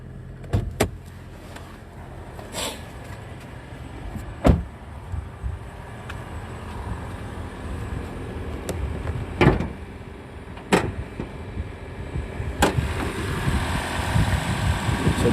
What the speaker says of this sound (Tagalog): the engine is now also running. And you can hear it